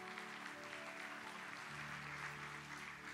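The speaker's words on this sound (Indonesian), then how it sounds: "Boleh kita berikan tepuk tangan buat Tuhan Yesus." A church congregation applauds steadily, a dense, even wash of many hands clapping together that holds at constant strength throughout, with faint voices underneath.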